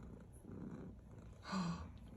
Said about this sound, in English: cat's purring.